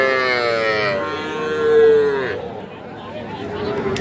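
Cattle at a busy market bellow in a long, loud moo that swells and fades, with buyers and sellers talking and haggling around them.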